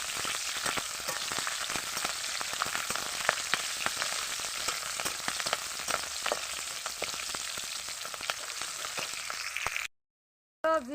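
Cumin, dried red chilli and torn bay leaves frying in hot oil, a steady close crackling sizzle with small pops running continuously and alone, then cut off abruptly near the end.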